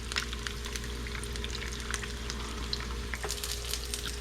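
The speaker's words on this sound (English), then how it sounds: "if you want to get this nice and crispy, the secret is to get the oil all over the egg" An egg fries in hot oil for huevos rancheros, a steady close crackling sizzle with dense spitting pops and no talking.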